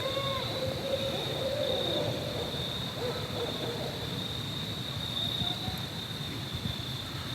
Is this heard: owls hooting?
yes